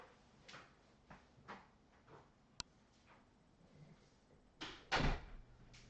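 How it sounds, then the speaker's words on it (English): A door being shut inside a house, heard as a few soft knocks and thuds building to one louder close with a short rattle near the end, all fairly quiet with no talking. "hold on, I gotta shut the door"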